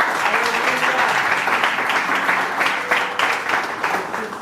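A church congregation applauds in a dense, sustained burst of many hands clapping, filling the room steadily for a few seconds.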